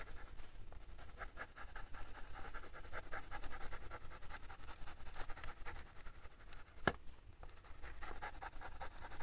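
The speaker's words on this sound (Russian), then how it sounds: "Реально этими карандашами я прям прикололась красить." Colored pencils scratching across a coloring page in a quiet night-time setting, a soft continuous rubbing with short strokes and one sharp tap partway through.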